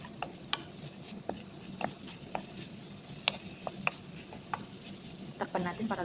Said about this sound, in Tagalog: Lagyan natin ng asin, black pepper, garlic powder, konting chili powder. Ayan, haluin natin.